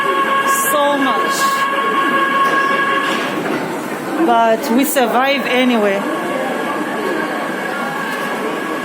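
Crowded passenger train riding through China, a continuous rumbling rail drone with tonal whines and squeals, someone speaking briefly over the noise inside the packed carriage.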